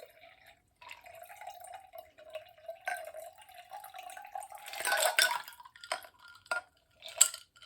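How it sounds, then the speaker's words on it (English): Cold ice water pours into a cup, a thin trickle with a rising tone giving way to splashing and clinks of ice against the cup, close and quiet. "I'm just going to pour it in the cup so you can see how this works."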